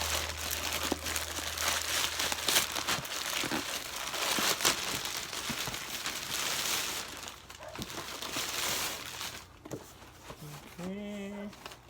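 An Amazon cardboard box being opened, heard as close, continuous crinkling, rustling and tearing of cardboard and packing material, with a brief voice near the end.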